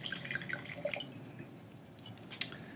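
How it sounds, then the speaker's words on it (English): Trivento Malbec Reserva red wine poured from the bottle into a glass, heard as faint trickling and dripping with a brief clink of glass near the end, quiet and close. "we are now pouring the Trivento Malbec Reserva"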